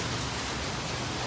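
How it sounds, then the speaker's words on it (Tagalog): Steady rain falls outdoors beside a highway during an earthquake drill, a dense, even hiss filling the whole moment with no voices over it. "So, umuulan po ngayon."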